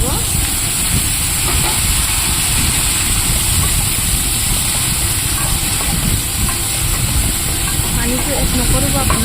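Bitter gourd fried in hot oil in a pan gives a steady, loud, continuous hiss and sizzle with no breaks, close up and unbroken throughout, with no one talking over it.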